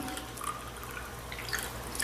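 Tap water runs and trickles into a container, drawn from a household faucet to test tomatoes for pesticide, a steady close splashing flow with no talk.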